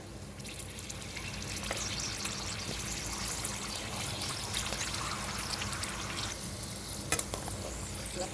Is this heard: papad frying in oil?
yes